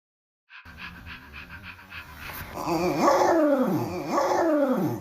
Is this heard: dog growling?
yes